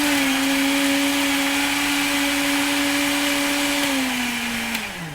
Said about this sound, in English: Now you're going to start the blender up and blend it up a little bit to get it mixed up